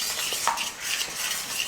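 A metal utensil stirs eggs in a pan over medium flame for kothu parotta, giving soft scraping and light clinks over a faint sizzle, close and brief.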